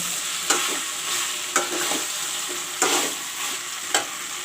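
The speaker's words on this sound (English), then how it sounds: "Now I will put in the fried cauliflower, potato and" Fried cauliflower, potato and brinjal being stirred into browned, sizzling masala, a steady close fry with four distinct spoon scrapes and knocks at a slow, even rhythm.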